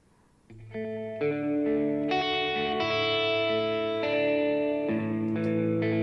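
Sustained synth or keyboard chords ring out in a mix, washed in reverb with a noticeably delayed onset, the tones stacking and holding continuously at a steady, fairly loud level.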